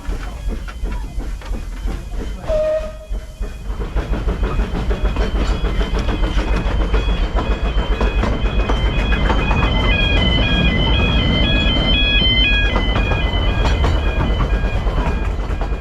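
A small train rumbles and clatters along the Vale of Rheidol narrow gauge railway near Llanbadarn, growing louder and steadier, with a rhythmic clickety-clack and squealing wheel tones over a constant hiss.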